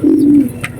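A pigeon gives one low, throaty coo at close range, a steady hum lasting under half a second, followed by a faint rustle; the bird is a cooped pigeon, a Red Quarter or Giribaz type, among a pair kept for sale.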